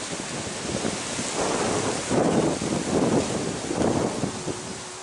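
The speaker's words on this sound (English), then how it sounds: "It's very windy right now." Wind gusts outdoors, a loud, broadband roar of rushing air buffeting the microphone, swelling in rolling surges over a constant rumble, with no voices.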